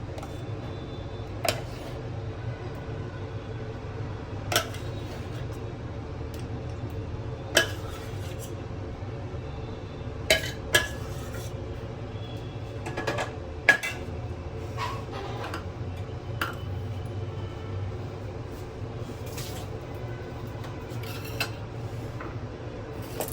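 Mango payasam is spooned from a pot into a serving bowl, making sparse metallic clinks and taps of a ladle against the dishes over a low steady hum, with no talking.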